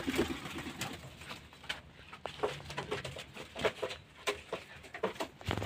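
Pigeons in a loft give soft, low coos amid fluttering and light pattering, several birds close by in a busy, continuous murmur.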